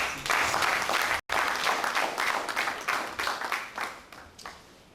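Audience applause at a two-day prison fellowship workshop in Nigeria, steady dense clapping from a crowd that holds for several seconds with a brief break, then thins and fades toward the end.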